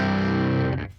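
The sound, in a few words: electric guitar through Milk Dude Dirty amp capture on ToneX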